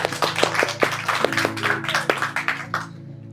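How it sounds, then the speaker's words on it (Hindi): Congregation clapping for the Lord during a church service, a run of sharp hand claps over a sustained musical drone, fairly close, fading out near the end. "प्रभु के लिए ताली बजा सकते हैं"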